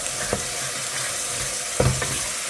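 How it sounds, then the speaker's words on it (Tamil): Ground spices stirred and fried in a hot pan give a steady sizzle with a few brief scrapes and clicks of a spoon, close and alone without talk. "இப்போ இதை தூக்கி இதோடு சேர்த்துக்கலாம். இதை நல்லா மிக்ஸ் பண்ணிக்கலாம்."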